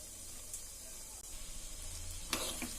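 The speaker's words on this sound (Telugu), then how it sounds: "నెక్స్ట్ వచ్చేసి జీలకర్ర, ఆవాలు వేసి ఇవన్నీ బాగా వేయించుకోవాలండి" Cumin and mustard seeds fry in hot oil, giving a steady soft sizzle that swells into brighter crackling and popping toward the end.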